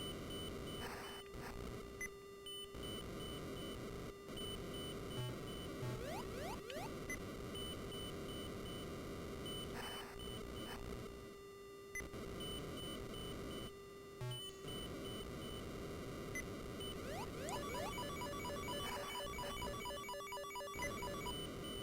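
A ColecoVision video game gives off repeated electronic beeps and rising, sweeping synthetic tones in a steady, droning pattern, with no voices.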